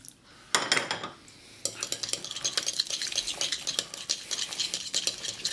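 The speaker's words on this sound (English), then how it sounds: "Mix that together." Egg yolk mixture with lemon juice being stirred briskly in a bowl, with dense clinking and scraping of a utensil against the dish. After a short pause near the start, the stirring runs steadily and fairly close, with no voices.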